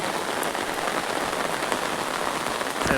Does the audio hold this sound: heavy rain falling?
yes